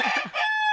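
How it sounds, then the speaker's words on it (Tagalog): A red fighting cock crows once, loud and close, its harsh broken call ending in a long, steady, ringing note, with no voices nearby. "Manok na pula"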